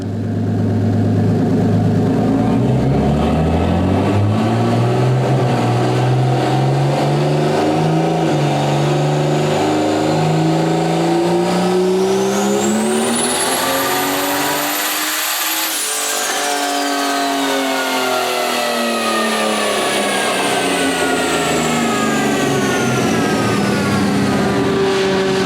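A 1976 Ford Granada with a turbocharged Barra engine running 23 psi of boost makes its final pull, revving loud and close through rising gears before a high turbo whine peaks and the engine note falls away.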